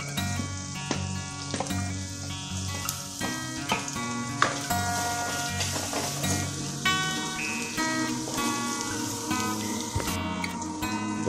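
Two sliced onions frying in oil in a pan, a steady close crackling sizzle that carries on without a break, with a faint tonal background underneath.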